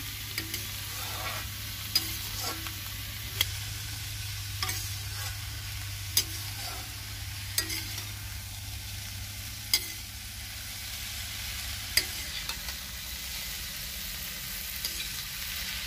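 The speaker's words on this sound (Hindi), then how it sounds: "दो मिनट के लिए टिंडों को हम अच्छे से भून लेते हैं" Chopped tinda round gourd frying in a pan, a steady low sizzle under repeated sharp clicks and scrapes of a spoon stirring against the metal, with no talking.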